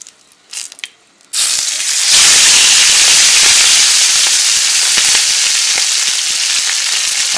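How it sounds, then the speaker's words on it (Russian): Homemade sausage frying with rosemary over a grill, a loud continuous sizzle and hiss that starts abruptly after a few brief clatters and holds steady throughout. "Обжариваем ее с обеих сторон."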